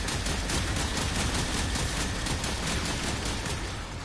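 Dense, continuous gunfire from the video game Warframe, a sustained fusillade of rapid overlapping shots at steady loudness for the whole stretch, with no talk over it.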